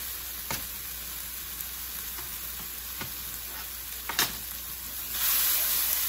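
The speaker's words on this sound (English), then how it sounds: "And we're gonna add that right into the onion mixture." Steady sizzling and frying of an onion mixture in a pan as canned coconut milk is poured in and stirred, a continuous close hiss with a few sharp clicks and a brighter surge near the end.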